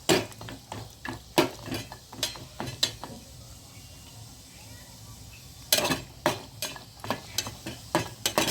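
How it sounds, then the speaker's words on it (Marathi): Whole turmeric root being lightly fried and stirred in a pan for pulao masala powder: repeated rhythmic scraping and clinking of a spatula against the pan over a faint sizzle, with a short quieter pause midway. "हळकुंड मी तळून घेत आहे"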